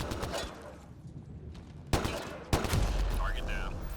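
Gunfire in the video game Mass Effect Andromeda, with rapid bursts of shots at targets mixed with game effects. Two sharp louder reports stand out among the continuous firing.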